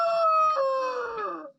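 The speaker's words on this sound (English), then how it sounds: "yes, Rooster." A rooster crows once near a backyard chicken coop with a tractor run and chicken wire, a loud drawn-out harmonic call that falls in pitch toward its end, heard clearly with no talking.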